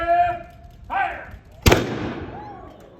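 A matchlock musket fires once in a sharp, loud blast at a Jamestown demonstration, its report ringing out and decaying over a second or so, preceded by a shouted command.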